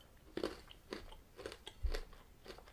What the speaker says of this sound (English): It is a bit crunchy, so when you first bite it, you just feel like it's a bit too crunchy.